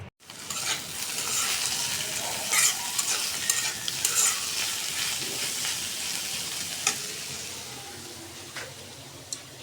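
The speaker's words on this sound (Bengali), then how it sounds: "এই যে করলা কেটে নিয়েছি, এখন ভাজি করে নিব" Sliced bitter gourd fries in a pan with a close, loud, steady sizzle and crackle, while a spatula scrapes and taps at intervals. No one speaks.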